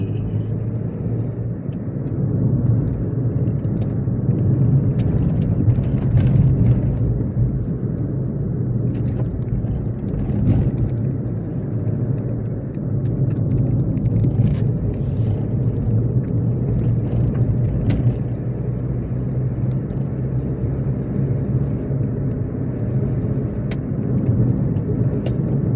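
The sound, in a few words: guest's car arriving and parking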